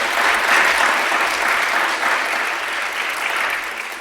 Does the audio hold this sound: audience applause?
yes